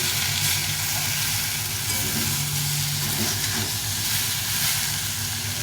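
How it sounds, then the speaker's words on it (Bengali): Spice paste fries loudly in a pan for a light fish curry, giving a continuous, close, even hiss and sizzle throughout with no talking. "এভাবে ভালো করে একটু কষিয়ে নিতে হবে এই মশলাটা"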